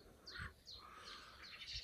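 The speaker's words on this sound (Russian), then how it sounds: "Не знаю, что за птица." Small birds chirping outdoors on a warm day on a hillside in Kuban, with sparrows nearby. Several quick, faint tweets come in separate bursts at a distance, with no talking.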